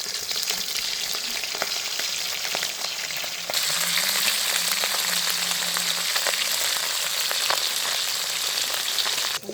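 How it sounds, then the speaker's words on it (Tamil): Steady, dense sizzling of meat frying in hot oil, crackling and popping continuously throughout with no voices. "நாங்கள் இறைச்சியை போட்டு பொரிச்சிடுவோம்."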